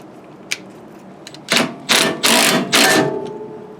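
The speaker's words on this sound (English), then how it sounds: "I'm just going to use this impact driver." An impact driver with a 1-inch socket hammers on a nut during brake and wheel work on a Mercedes-Benz R107 500SL, giving four loud, close bursts in quick succession after a couple of faint clicks.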